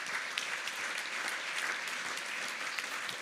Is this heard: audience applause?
yes